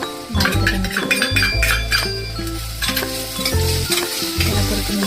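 Finely chopped capsicum is stirred and fried in a hot pan for fried rice, giving a loud, continuous sizzle with repeated scraping and clinking of the spatula against the pan.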